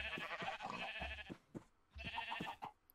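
Two quiet sheep bleats from the Minecraft video game, each a short wavering cry, separated by a brief pause.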